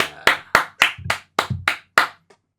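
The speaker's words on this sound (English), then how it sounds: "Clap it up for Torn" Hands clap eight times in a steady rhythm, each clap sharp and close, followed by a faint final tap, with no talking over them.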